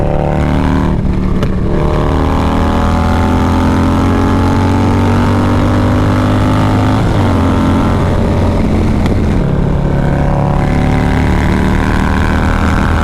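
Harley-Davidson motorcycle with a 131 engine of about 150 hp cruising on the road, a loud, continuous, deep rumbling drone with slight rises and falls in pitch, heard from right on the bike.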